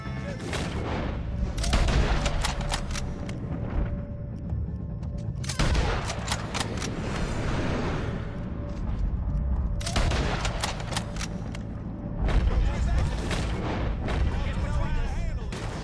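Gunfire in Red Dead Redemption 2 during a shootout with O'Driscoll gang members, loud dense volleys of rapid shots coming in bursts with brief lulls, mixed with in-game voices and booming reports.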